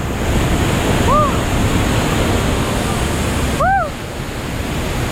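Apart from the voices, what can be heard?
waterfall and rushing water in the tropics, Malaysia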